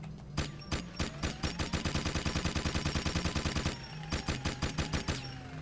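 Minigun in Jak II blasts at the firing range: a rapid, loud stream of evenly spaced shots that rolls on for several seconds, pauses briefly, then resumes in shorter bursts. No one speaks.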